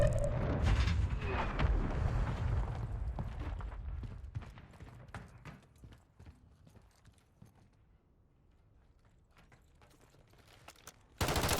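Video game gunfire rattles in dense bursts of rapid shots, loud at first and thinning into scattered cracks, then a final loud burst at the end; no talk.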